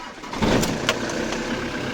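A Ford Transit MK6 with a 2.4 engine starts after an auxiliary belt change, cranking briefly before catching into a rough, steady idle.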